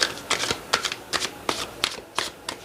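Tarot cards being shuffled by hand, a rhythm of crisp riffling bursts about every quarter to half second, close and moderately loud, with no one speaking.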